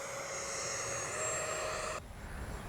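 An FMS Rafale 80mm electric ducted-fan RC jet flies slow at high alpha, its whining fan tone rising slightly before dropping off abruptly as power is cut, heard at a distance outdoors.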